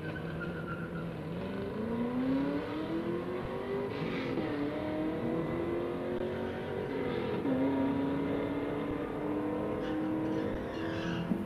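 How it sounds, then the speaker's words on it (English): A Chevrolet Cobalt and a Camaro accelerate side by side down a drag strip, engines droning and rising through gear changes, a steady moderately distant roar with no talking. "He's got the Cobalt going against the Camaro in the O'Reilly side."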